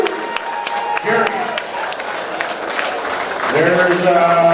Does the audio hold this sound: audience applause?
yes